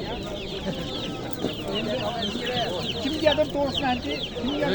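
Chickens and chicks cluck and peep steadily at a busy poultry market in Andijan, under loud continuous talk from the crowd.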